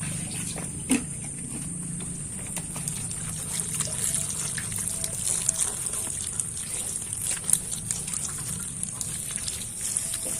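A soft, steady trickle of water splashes continuously into a bonsai pot topped with cocopeat, fairly faint, with a few small drips and taps over a low background hum.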